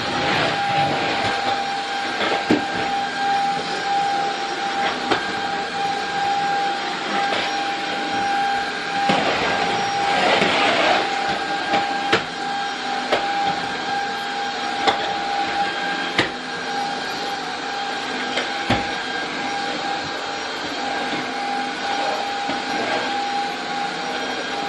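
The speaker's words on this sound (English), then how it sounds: "let's get the hoovering done first things first" A vacuum cleaner hoovers a home with a steady, loud whooshing drone and a faint constant whine, broken by occasional soft knocks as it bumps along for the whole stretch.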